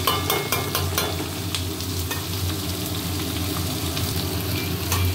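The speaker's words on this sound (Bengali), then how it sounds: "পেঁয়াজ ভাজা হচ্ছে" Onions fry in hot oil, giving a dense continuous sizzle with frequent sharp stirring clatters at close range.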